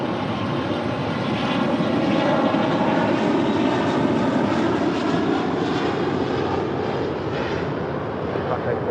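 An Asiana airliner taking off from runway 25 left, a loud, constant engine roar that holds steady throughout with no speech.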